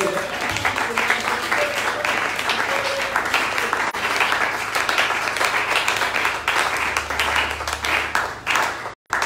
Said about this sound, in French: Acclamons d'abord pour le Seigneur Jésus-Christ